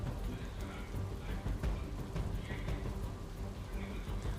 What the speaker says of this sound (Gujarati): પ્રહલાદનગર જોધપુર ગામમાં ધોધમાર વરસાદ વરસી રહ્યો છે